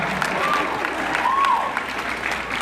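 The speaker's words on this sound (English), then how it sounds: "Oh, you're going to cheer that like you like it." Convention panel audience cheering and clapping, a steady crowd roar with whoops rising over it, filling the whole stretch.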